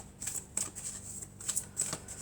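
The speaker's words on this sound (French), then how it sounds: "je vais prendre quelques cartes de l'oracle de la triade." Oracle cards of the Triade deck being handled and shuffled at a table, soft papery riffles and slides in several short bursts, close and quiet with no talk.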